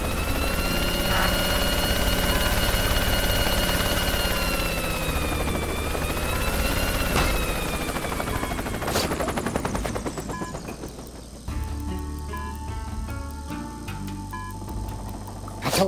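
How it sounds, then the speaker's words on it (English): Helicopter rotor chop from the video game Worms W.M.D, a loud steady thrum that runs for most of the stretch before giving way to clattering game effects and music near the end. "Get to the chopper."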